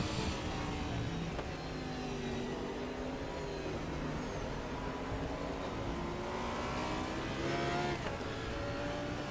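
ADAC Audi race car lapping the Sachsenring in Raceroom, its engine droning and revving steadily through gear changes, loud and close for the whole stretch, with no talk over it.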